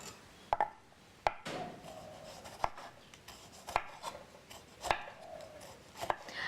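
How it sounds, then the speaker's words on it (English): Boiled bitter melon for a Balinese salad is sliced with a knife on a board, giving sharp, separate chopping taps about once a second with soft scraping between them, close and fairly quiet with no voices. "we're going to slice it"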